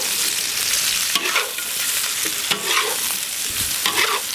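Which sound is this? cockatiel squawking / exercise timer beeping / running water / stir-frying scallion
stir-frying scallion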